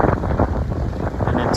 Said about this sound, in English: Please excuse the noise. It's going to be very,